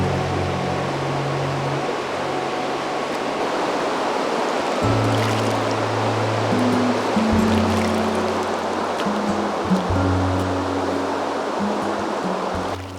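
The Hoh River in a rain forest rushes steadily, a dense broadband roar of flowing water heard up close throughout, with faint low tones layered underneath.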